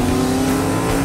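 Race cars roar off a salt flats start line in an animated racing scene, a loud steady engine drone with a strong sustained tone, filling the whole short moment.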